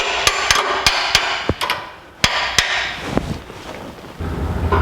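Sharp hammer taps striking metal, a dozen or so close blows in an uneven rhythm with short pauses between them, tapping a fabricated straight-axle lift part into place on a 1949 Chevrolet gasser.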